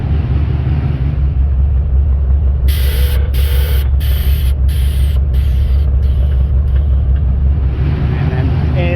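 The air suspension on a Nissan Stagea lets its air out in a loud, bright hiss that pulses in a run of short bursts over a steady low engine idle, then stops near the end.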